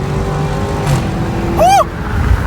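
A Dodge Charger Scat Pack with the 6.4L V8 roars loudly under acceleration during a pull, its exhaust note climbing and then dropping sharply as it shifts.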